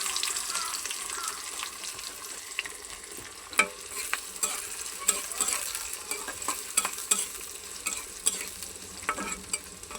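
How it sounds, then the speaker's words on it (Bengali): Onion, chili and mixed spices are sautéed together in a pan for a pointed gourd curry. A moderate, steady sizzle is punctuated by frequent spoon scrapes and clicks against the pan. "সব ধরনের মশলা আমি এনে একসাথে দিয়া কষাই নিতেছি"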